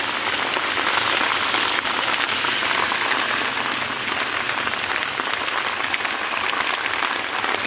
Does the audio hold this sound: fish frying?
no